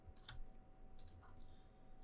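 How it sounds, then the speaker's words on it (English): Quiet keystrokes on a computer keyboard while entering zeros in 3D modeling software, a few separate clicks in quick pairs, close and soft. "just typing zeros in the X and Z"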